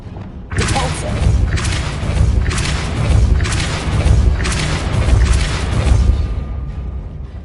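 Depulso force spell in Hogwarts Legacy, a series of heavy booming thuds about once per second, each with a bright burst on top, loud and close.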